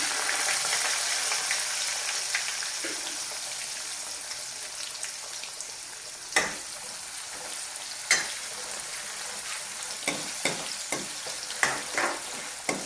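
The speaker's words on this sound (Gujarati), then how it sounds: "આપણી ડુંગળી બ્રાઉન કલરની થાય ત્યાં સુધી આપણે એને તળવા દેવાની છે" Chopped onion fries in a pan for an okra and potato curry, with a steady hiss of sizzling oil and occasional sharp knocks of a spoon stirring against the pan.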